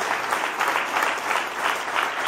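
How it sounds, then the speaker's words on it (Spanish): Audience at a sales seminar in Ibagué giving Janet loud, steady applause, dense continuous clapping with a gently pulsing rhythm throughout. "Vamos a darle un fuerte aplauso"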